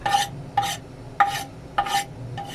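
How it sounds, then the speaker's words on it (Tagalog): Garlic, onion and ginger being stirred into thick simmering laing in a pan, with five scraping stir strokes at a steady rhythm over a soft background sizzle. "Ilagay na natin itong bawang, buyas, ating luya"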